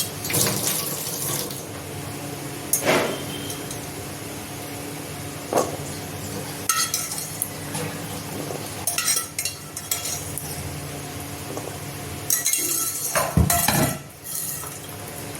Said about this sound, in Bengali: সিদ্ধ করা ছোলাগুলো নিয়ে নেব।